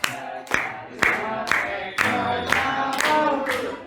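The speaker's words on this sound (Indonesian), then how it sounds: "Oke, tepuk mantap." A group claps in unison, sharp claps landing on a steady beat about twice per second, with voices chanting or shouting along between the claps.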